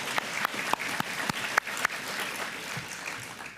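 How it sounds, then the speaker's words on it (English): An audience applauds an alumni award recipient at an awards ceremony, scattered moderate clapping with a few sharp louder claps standing out before it thins and fades. "please stand up so that we can applaud"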